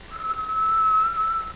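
A mouth whistle imitates the whistling of a heating system, a single steady high tone held for over a second, close and clear.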